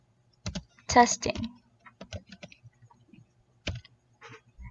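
A computer keyboard types a copy command into the Windows command prompt, with bursts of crisp clicks and keystrokes around a brief spoken word.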